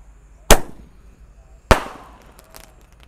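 A sonic boom firework launcher fires twice on a Ramadan night, each a sharp loud crack with a brief fading tail, spaced just over a second apart, followed by faint smaller pops.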